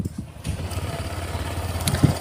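A 2018 Honda Vario 150 LED scooter engine runs close by in a brief, steady low putter with slight rhythmic pulsing and a short rattle near the end.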